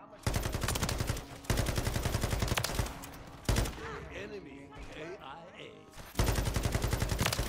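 Sakin MG38 light machine gun firing in Call of Duty Modern Warfare III: loud sustained full-auto bursts in several long strings separated by short pauses, with softer game ambience and action sounds in the gaps.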